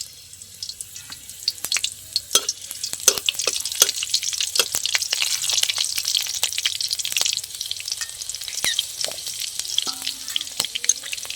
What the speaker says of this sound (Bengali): এবার ফোড়নে দিয়ে দিচ্ছি কাঁচা লঙ্কা আর কালো জিরে।